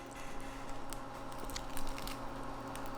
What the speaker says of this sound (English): The bagel itself has a nice crunch to it.